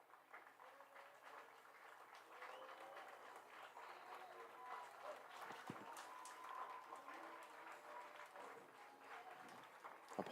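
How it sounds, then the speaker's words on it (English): A baseball crowd at a Harrisonburg Turks game applauds softly from a distance, a thin, low-level patter of clapping that builds slightly over several seconds amid faint stadium ambience. "Applause from the crowd here"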